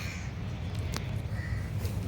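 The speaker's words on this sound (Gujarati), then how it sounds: "કાગડાઓ વાળો અહીંયા ત્રાસ બહુ છે" Crows caw a few times at a riverside cattle shed, short harsh calls rising over a steady low rumble of outdoor background noise.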